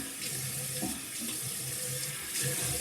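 Warm water runs steadily from a bathroom tap into a sink to wet a face before a straight razor shave, a continuous close splashing hiss with no voices.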